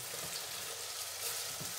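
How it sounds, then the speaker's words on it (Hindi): Onion and garlic frying in a pan for mutton kofta curry, a steady close sizzle with no talk over it. "तकरीबन 5 मिनट के लिए मैं भूनूंगी। तो ये हमारा प्याज और लहसुन भून जाएगा"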